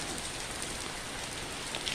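Heavy rain pours steadily onto a garden with mango and orange trees, a dense, continuous close hiss of drops with no voices.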